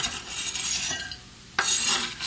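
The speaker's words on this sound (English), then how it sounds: "I'm going to put the onions in this ceramic bowl" Onions tumble into a ceramic bowl with a brief scraping, rustling clatter in two short bursts, close and fairly quiet, with no talking.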